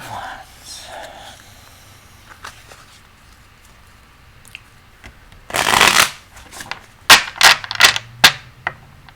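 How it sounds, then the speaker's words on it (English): Tarot cards riffle-shuffled in several loud, close bursts: a long shuffle midway, then a quick run of sharp snaps, with faint talk early on. "I shuffled the daylights out of these cards."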